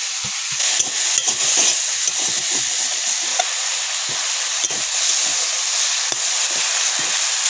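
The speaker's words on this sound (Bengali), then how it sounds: "নাড়াচাড়া করবো, এবার খুন্তি খুঁটে খুঁটে দাও" Food cooking with salt and turmeric, stirred and scraped in a sizzling pan with a spatula, with repeated scraping strokes over a constant close fry hiss and no talk.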